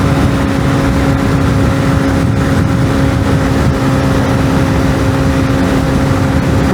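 A 125cc motorcycle engine held at its fuel-cut top speed of 115, revving against the limiter in a loud, steady, unbroken drone with wind roar and no voices.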